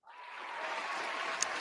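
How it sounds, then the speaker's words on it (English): A short round of applause that swells up quickly from silence, a soft, distant wash of clapping with one brief sharper clap near the end. "Round of applause."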